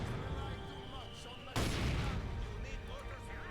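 An artillery counter-barrage strikes a mortar position in Company of Heroes 2, a sudden heavy blast cutting in midway through ongoing battlefield rumble and distant gunfire.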